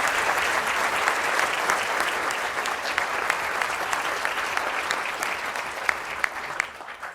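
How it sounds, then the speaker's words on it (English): An audience at a university library plenary claps to welcome a speaker who is about to hand out awards. The applause is a steady, full crowd sound with crisp individual claps standing out, holding even throughout and never fading. "I'm just going to ask you to give him a round of applause in terms of welcome"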